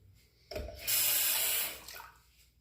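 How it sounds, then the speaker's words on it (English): Tap water runs briefly over a Merkur Progress safety razor being rinsed during a shave, a short splashing gush that swells and fades within about two seconds, close and alone. "I will rinse the razor"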